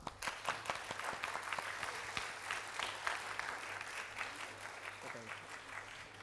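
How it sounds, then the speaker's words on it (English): An audience at a school design competition applauds the student teams, giving steady, fairly faint and distant clapping that lasts about six seconds. "So let's cheer for every team, not just for what they made it"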